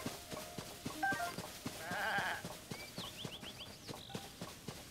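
Goat bleats and a horse's hooves clip-clopping in The Legend of Zelda: Tears of the Kingdom, with game-like chimes and tones over a steady rhythmic background; sounds synthetic and mid-distance.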